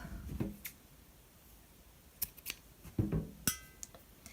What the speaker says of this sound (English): I'm going to fasten off and cut the yarn tail